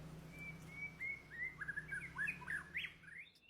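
A white-rumped shama sings a rising series of clear, sweet whistled phrases, fairly close and alone over faint low background hum, the notes quickening toward the end.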